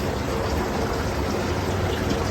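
Garden hose water running steadily while watering tomato and blueberry plants in summer heat, a constant close hiss and trickle with no talk over it.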